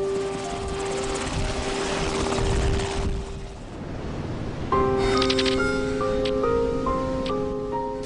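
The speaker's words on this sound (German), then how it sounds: "Das Rettungsteam steuert den Hubschrauber zurück zur Basis." Rescue helicopter flying back to base over the sea after the TWA Flight 800 crash, a steady loud rotor and engine drone filling the whole stretch with no talk.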